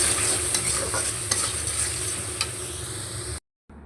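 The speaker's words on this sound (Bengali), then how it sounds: "আমি পেঁয়াজ, রসুন আর কাঁচামরিচ আর গুঁড়ো চিংড়ি একসাথে তেলে ভেজে নিতেছি।" Onion, garlic, green chili and ground dried shrimp fry together in hot oil, giving a loud, continuous sizzle with scattered stirring clicks before a sudden brief silence near the end.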